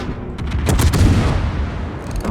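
Naval guns fire in the video game World of Warships, a loud close volley of booming blasts crowding together in the first second, then a long rumbling decay.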